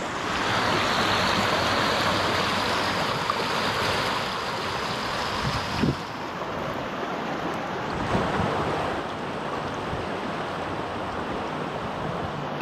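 Floodwater rushes over the Denton Trinity Greenbelt trail along the Elm Fork in 2022 as a continuous, loud, broad roar of flowing water mixed with wind buffeting the microphone, with no voices heard.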